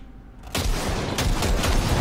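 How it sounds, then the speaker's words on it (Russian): Gunfire bursts in the video game Cyberpunk 2077: a short, loud volley erupts after a brief quiet and keeps going as dense rattling shots with booming impacts. "Дай по ней короткую очередь."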